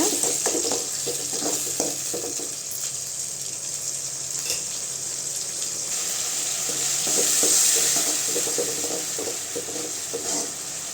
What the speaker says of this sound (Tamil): தக்காளி நல்லா பச்சை வாசனை போகிற அளவுக்கு வதங்கட்டுங்க